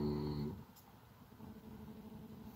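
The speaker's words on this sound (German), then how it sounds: "der da so schnarcht" A man sleeping on bare hard ground in a sleeping bag snores, one deep rasping snore up close at the start, then quieter breathing with a low rumble underneath, with no talk.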